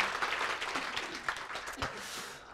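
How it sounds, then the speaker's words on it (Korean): A church congregation claps together during a worship service, a dense burst of hands that stays fairly even and then begins to thin toward the end. "하나님께 영광의 박수를 힘차게 올려드립니다."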